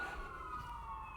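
An emergency siren wails faintly in the distance outside a home, a steady tone heard alone for about a second.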